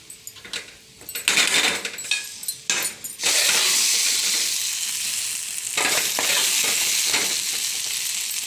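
Curry leaves sizzle and fry loudly in a hot pan, with a spoon clattering and stirring in the first few seconds before a steady, continuous hiss takes over.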